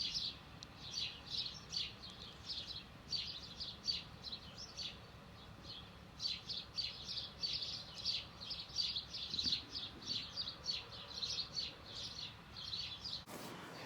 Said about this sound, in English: I have a bird on my bird feeder.